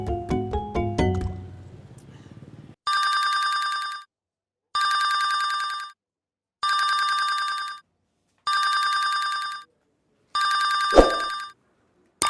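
A telephone rings indoors with five evenly spaced electronic trills, each about a second long with short silent gaps between, loud and clear. A brief knock-like thud follows near the end.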